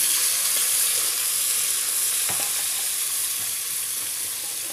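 Onions sizzle steadily in a hot pan for chicken biryani, a constant crackling hiss with a few faint clinks, no voices.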